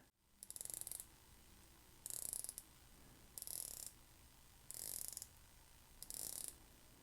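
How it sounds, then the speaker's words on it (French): Five short bursts of bright ratcheting clicks from a Héron Marinor diving watch bezel, each lasting about half a second, separated by quiet pauses, close and crisp with no talking. "On entend un bon cliquetis, il n'y a aucun retour"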